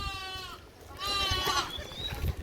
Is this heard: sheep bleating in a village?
yes